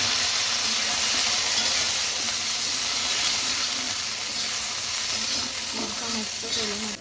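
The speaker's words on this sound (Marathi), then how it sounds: "त्या थोड्या तेलामध्ये फ्राय करून घ्यायच्या." Red chillies fry in a little oil in a kadai, giving a loud, broad, continuous sizzle close up that stays steady throughout and drops off abruptly at the very end.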